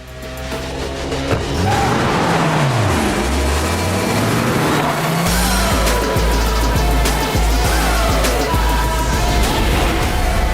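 A car engine revs and accelerates loudly, the pitch sweeping up and down through several surges and then holding a heavy low roar, with a couple of sharp knocks in between.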